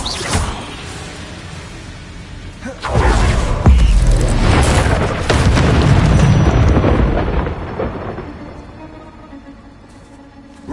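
A fire spell cast in the Hogwarts Legacy game: a loud fiery boom bursts in after a quiet start, then a roaring, crackling whoosh of flames sustains for several seconds before fading.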